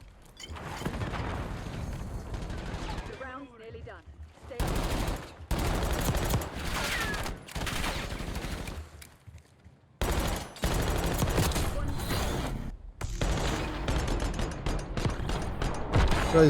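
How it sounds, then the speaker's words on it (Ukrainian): Automatic gunfire in a video game crackles in long, dense bursts with short pauses, loud and continuous, mixed with mechanical clatter. "Можете помітити, як я постріляв."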